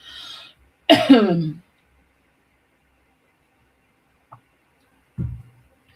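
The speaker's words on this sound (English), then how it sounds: "I'm going to cough again" A single harsh cough bursts out close by, followed by quiet and a small throat sound a few seconds later.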